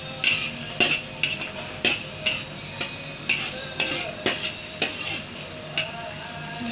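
Onions sautéing in a pan for a fried fish dish with dark soy sauce, a steady close sizzle broken by repeated sharp clanks of a utensil stirring against the pan.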